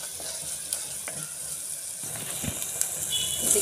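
Spinach and fenugreek greens frying in a clay pot, a steady close sizzle with occasional stirring scrapes and knocks, no talking.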